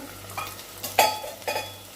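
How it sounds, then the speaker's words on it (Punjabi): A tadka of garlic, onion and green chilli sizzles in hot oil, with a few short stirring scrapes over a low steady hiss. "ਇੱਧਰ ਵੀ ਤੜਕਾ ਲੱਗ ਰਿਹਾ"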